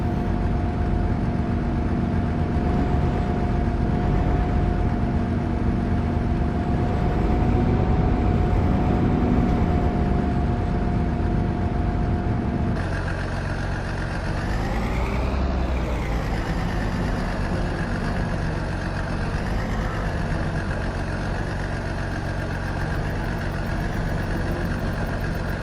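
A tractor engine idles steadily in Farming Simulator 22, a constant droning hum with a clear low tone that shifts character partway through, running alone without any talk.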